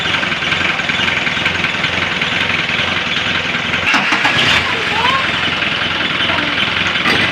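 A car engine with a newly rebuilt starter turns over and catches, then settles into a steady idle beneath continuous broadband noise, with a brief burst of activity near the middle.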